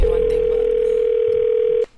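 A telephone dial tone before a prank phone call: one loud, steady, unbroken tone that holds for nearly two seconds and then cuts off abruptly, with nothing else heard.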